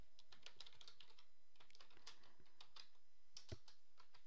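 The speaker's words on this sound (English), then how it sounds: "I'm going to type in my name." A computer keyboard is typed on in quick, uneven bursts of light clicks, close and quiet, with short pauses between keystrokes in an otherwise hushed room.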